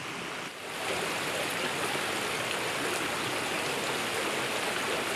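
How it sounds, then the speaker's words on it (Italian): Mountain streams at Lake Federa in autumn, several brooks joining and running downhill, giving a steady, dense rushing of water that fills the scene close by and alone without voices. "vedo questi ruscelli che arrivano, si uniscono, vanno giù"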